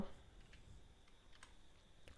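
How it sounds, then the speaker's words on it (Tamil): Faint keystrokes on a computer keyboard during data-entry typing: a few scattered, soft clicks over a quiet room hum, with no one speaking. "நான் வந்து டைப் பண்ணிக்கிறேன்"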